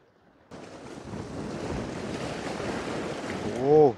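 Wind blows over the sea while a small boat is out fishing, making a rushing gusty roar that swells suddenly and builds to a loud peak. A short vocal sound comes near the end.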